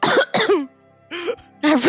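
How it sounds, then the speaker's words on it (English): Several people cough and clear their throats in short, rough bursts, close and fairly loud. Brief quiet gaps separate the bursts. "Everyone's just coughing up a storm right now"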